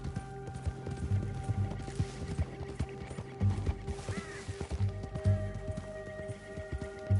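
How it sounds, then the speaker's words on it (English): Horse hooves clip-clop in a steady rhythm while riding in the video game Red Dead Redemption 2, close and repeated, with game sound effects and a faint whinny layered over the hoofbeats. "Oops, sorry, horse."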